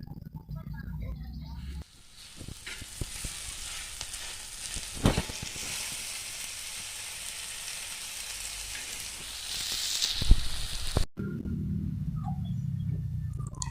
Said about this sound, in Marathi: कांदा आणि मिरची आपली परतून झाली आहे आता त्याच्यात लसूण टाकूया टोमॅटो ही यात आता परतून घेऊ चांगला